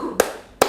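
A group of people clapping hands once in a school ice-breaking activity, two short sharp claps close by in quick succession.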